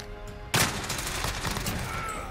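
A sudden burst of video game gunfire near an airport tower breaks out after a quiet start, a rapid crackling volley of shots that continues loud and dense to the end.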